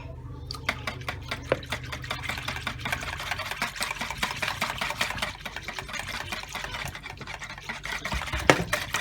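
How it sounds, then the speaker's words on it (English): A whisk beats thick fabric-stiffening glue in a container, making a rapid, steady run of close clicking and tapping strokes that continues throughout at moderate volume with no talking. "I recommend using a whisk to mix the glue"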